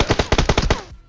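A machine gun fires a rapid burst of about eight loud, close shots in a battle royale video game, each crack evenly spaced, followed by a short decaying echo.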